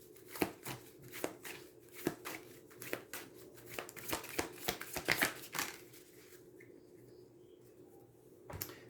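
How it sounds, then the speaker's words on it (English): Tarot cards are shuffled and pulled from the deck in a quiet room, giving a run of crisp riffling and slapping bursts, some closely bunched and others spaced apart, that ends with a single sharp snap after a brief lull. "I'm going to pull one more card for that."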